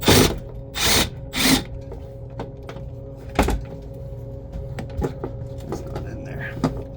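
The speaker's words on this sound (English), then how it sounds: "So I've got a giant extension on my drill because I couldn't find it." Power drill fitted with a long extension whirs in three loud bursts early on, then quieter mechanical clicks and knocks follow on cluttered shelves in a walk-in freezer setting, with a voice talking over parts.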